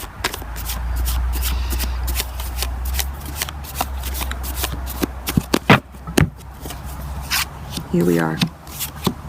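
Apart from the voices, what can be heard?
shuffling tarot cards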